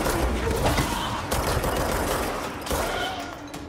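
Dense, continuous gunfire in the video game Control, overlapping bursts and rapid shots forming a steady loud barrage that swells and eases slightly across the span, with no voices.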